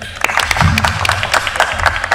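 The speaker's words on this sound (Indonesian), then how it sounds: "Tepuk tangan dulu dong" An audience at a photography sharing session applauds, a short burst of scattered, sharp hand claps, fairly close, with a little voice mixed in.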